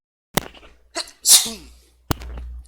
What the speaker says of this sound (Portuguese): Espirro tradicional do vídeo.